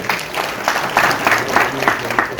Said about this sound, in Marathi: एकदा अण्णांसाठी जोरदार टाळ्या होऊन द्या.